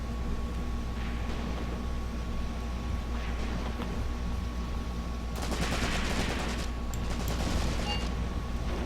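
Mortar and gunfire in the WWII tactics game Graviteam Tactics Mius Front rumble over a steady low battlefield drone, with faint distant thumps first, then a louder stretch of crackling rapid shots near the end.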